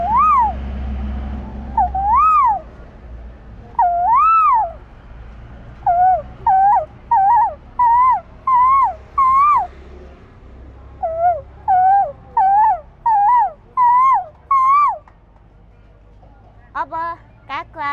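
A person's voice imitates a koel, repeating rising-and-falling whistled calls over and over in a steady rhythm, close and clear, with short gaps between phrases and a quicker trill at the end.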